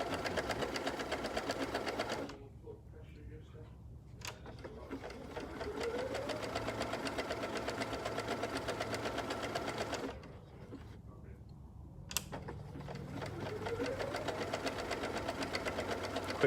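A Pfaff Quilt Ambition 630 sewing machine runs slowly, its motor humming and needle knocking in an even, continuous rhythm, pausing briefly twice, with a person talking over it.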